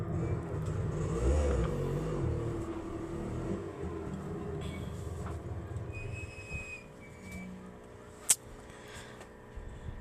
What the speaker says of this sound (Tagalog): Padaanin natin ang tricycle.